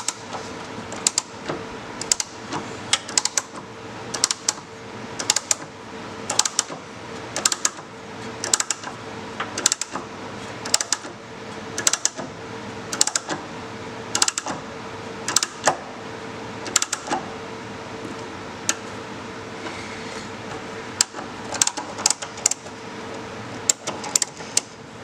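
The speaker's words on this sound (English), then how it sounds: "we're just going to put an M5 riv nut in" An aluminium M5 riv nut goes into a Datsun 280Z body panel during an intercooler relocation, heard as a run of sharp, repeated clicks and clacks from the setting tool, close and fairly loud over a steady background hum.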